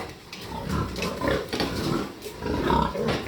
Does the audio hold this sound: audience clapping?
no